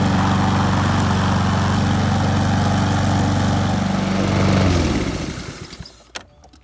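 An automatic lawnmower, built by converting a manual mower, runs loud and close with a steady droning engine that winds down and cuts out shortly before the end, leaving near silence.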